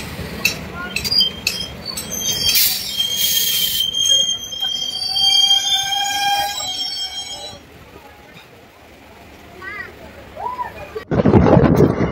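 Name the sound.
DEMU train running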